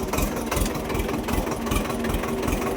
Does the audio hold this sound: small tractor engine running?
yes